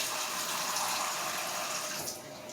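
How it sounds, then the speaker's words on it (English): Water pours steadily into a cooking pot for a Jamaican turn cornmeal dish, a close, continuous splashing rush that eases slightly near the end. "I think I need to add some more water to this pot"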